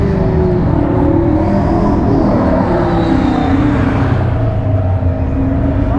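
Turbocharged and supercharged car engines rumble loudly at a supercar gathering, a dense steady roar of several engines with shifting revs, close and continuous with no talk.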